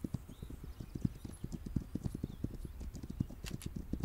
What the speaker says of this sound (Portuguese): Bora, cavalo.